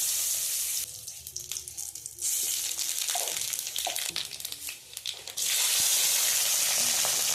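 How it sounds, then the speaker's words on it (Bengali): Dried red chillies, bay leaf and panch phoron crackle and sizzle in hot oil in a kadai for a khichuri tempering, a steady close hiss with brief quieter gaps and a few soft clinks. "কড়াইটা মোটামুটি একটুখানি পরিষ্কার করে তার মধ্যে শুকনো লঙ্কা, তেজপাতা আর পাঁচফোড়ন দিয়ে দেব"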